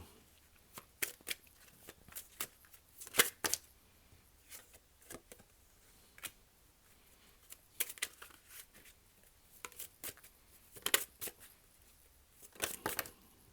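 Tarot cards shuffled by hand in a quiet room, repeated short crisp riffling bursts in irregular clusters, close and clear with no voices.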